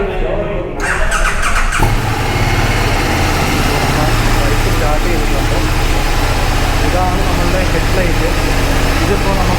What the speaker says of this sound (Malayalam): സോ നമുക്ക് ബൈക്കൊന്ന് സ്റ്റാർട്ട് ചെയ്തിട്ട് ഇതിൻ്റെ എക്സോസ്റ്റ് നോട്ടൊന്ന് കേൾപ്പിക്കാം.